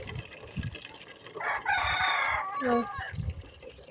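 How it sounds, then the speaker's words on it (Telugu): Village chickens cluck faintly in the background while a rooster lets out one loud, drawn-out crow in the middle, followed by a few short calls. "కోళ్ళు అడుస్తున్నాయి."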